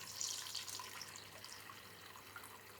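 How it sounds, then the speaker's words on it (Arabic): About two cups of boiled water are poured into a pot of onions for an oxtail and grape-leaf stew, giving a faint, continuous splashing trickle nearby for a few seconds. "وهجيب حوالي كوبايتين ميه"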